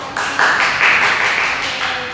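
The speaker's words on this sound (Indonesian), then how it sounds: "Oke, beri tepuk tangan" A classroom of students applauds together, a dense, steady wash of clapping that swells and holds for a couple of seconds, fairly close and loud.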